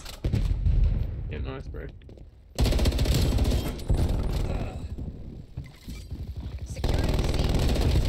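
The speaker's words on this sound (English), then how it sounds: "Hostile sentry turret active." A hostile sentry turret fires in a video game, loud bursts of gunfire that come and go in bands over the clip, with players talking over it.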